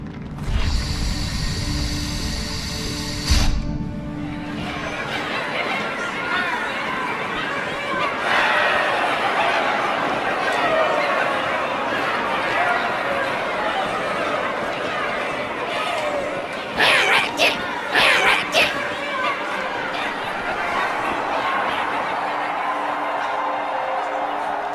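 A crowd murmurs in a Halo video game cutscene, with a dense, steady blend of many distant voices that follows a louder opening burst and continues throughout.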